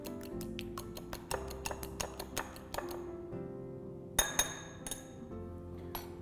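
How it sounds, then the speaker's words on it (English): An egg is whisked in a bowl with quick, light, repeated clinks and ticks of the whisk against the bowl, close and sharp, with a short pause before a few final taps. "Whisk it."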